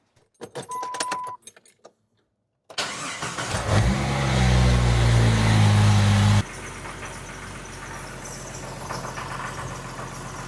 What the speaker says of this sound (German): Wir starten das Auto und schauen, ob der Anschluss jetzt dicht ist.